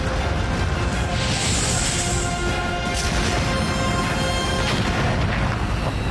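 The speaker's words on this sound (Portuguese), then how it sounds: "Explosões." Continuous heavy blasts and rumbling explosions, loud and dense for the whole stretch, with crashing debris layered throughout and no pause.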